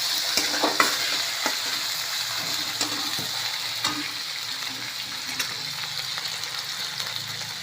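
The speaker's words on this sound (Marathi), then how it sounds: "कांदा घातला, टमॅटो घातला आहे. आता भाजतोय" Onion and tomato fry in a pan with a steady, close sizzle, and a few clacks from stirring break in at intervals; no one speaks.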